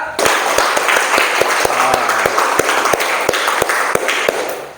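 A group claps rapidly and unevenly on cue, sharp overlapping hand claps in a steady flurry, loud and close, with brief Indonesian voices underneath.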